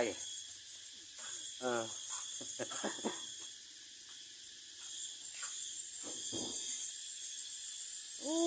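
Cicadas drone with a steady, shrill high-pitched buzz throughout, while voices speak intermittently underneath.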